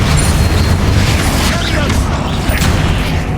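Bombarda and Confringo spells going off in Hogwarts Legacy, a dense, continuous rumble of booming blasts that fills the whole span, loud and close with no clear gaps.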